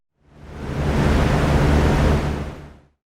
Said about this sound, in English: Industrial fans.